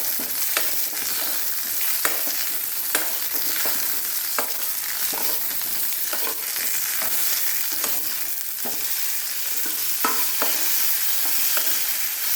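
Lemon pieces for lemon pickle tossed and stirred in a hot pan, giving a steady close sizzle broken by repeated scraping clicks of the utensil, with no talking.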